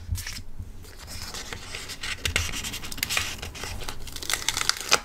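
Seashell stickers being handled and peeled for a planner, giving close, soft crinkling, scratching and tearing sounds in irregular bursts with no talk.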